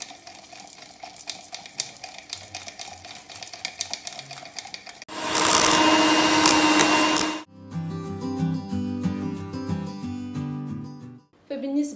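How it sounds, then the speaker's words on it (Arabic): An electric whisk beats coffee mousse for about two seconds as a loud, steady whirring burst, with quieter music playing before and after it. "انا غادي نشوف الا ما زربتش نقدر ندير الطراب الكهربائي"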